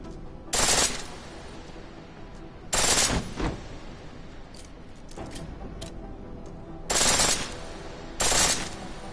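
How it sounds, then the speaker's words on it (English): A pistol fires on full auto in Deus Ex Mankind Divided, with four loud, close bursts of rapid shots spaced apart over a low steady background hum. "The pistol in full auto will take down targets fast, but it'll burn through your ammo."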